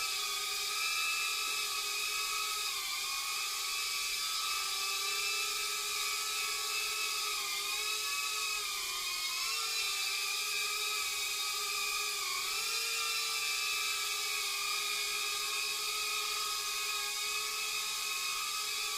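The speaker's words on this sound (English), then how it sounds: "This is the first time we're flying this drone" An Emax Tinyhawk micro drone hovers, its tiny propellers producing a steady, high-pitched whine with several stacked tones that dip and rise slightly as the throttle shifts, continuous and close throughout.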